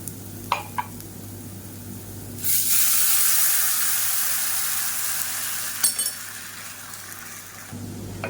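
Sautéing in a pan while cooking South Indian rasam: a few metallic clinks from a utensil, then a strong hissing sizzle bursts in and steadily fades, with another clink and a second burst of sizzling near the end.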